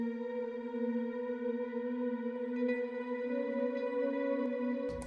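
A steady synth pad, built from a grand piano preset, holds one sustained chord with a soft reverberant shimmer. It stays even and unbroken throughout and cuts off at the very end.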